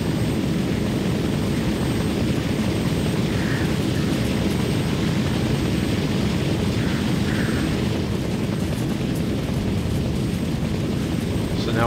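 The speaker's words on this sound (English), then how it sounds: "I hear our extraction chopper coming here." Extraction helicopter in a military simulator video game, a steady, loud rotor and engine drone that holds throughout without a break, faint voices audible underneath.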